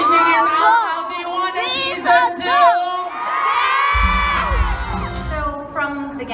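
A crowd of fans at a live Gap the Series fan event in Manila screams and cheers loudly, with high shrieks and whoops rising in waves and a dense roar swelling in the second half.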